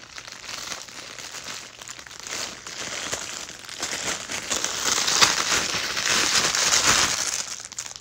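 A plastic bag crinkling and rustling as Princess Peach and Daisy plush toys are unwrapped, continuous close crackling that grows louder and busier toward the end.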